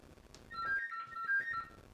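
A phone ringtone at a ghost hunt in Blyth, two short bursts of a trilling electronic tune, fairly quiet and slightly distant against a faint background.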